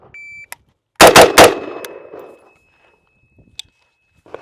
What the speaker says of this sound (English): Let's go ahead and just fire a few rounds here,